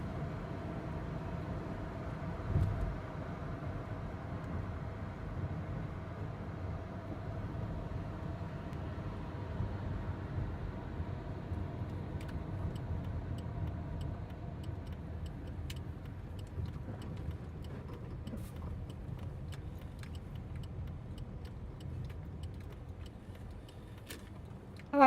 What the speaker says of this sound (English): All right, I am parking my car, turning it off.